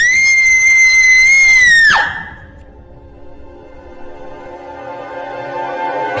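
A woman lets out a loud, sustained high-pitched scream of fright lasting about two seconds, which cuts off abruptly into a quieter, humming tonal background.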